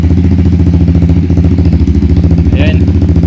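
A MOJO200 motorcycle with a muffler runs at a steady, loud, close idle with an even low pulsing throb and no change in pace.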